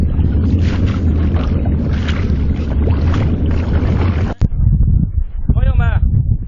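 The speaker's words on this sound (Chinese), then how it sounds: "撒不了了，现在起大风了，看一下很危险" Strong wind rising over a lake while a fishing boat sits on the water, heavy roaring gusts buffeting the microphone, loud and continuous, before a sudden cut and a brief whistling tone.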